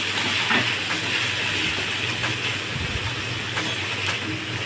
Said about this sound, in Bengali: গোবিন্দভোগ চালটা ভালো করে একটু ভেজে নেব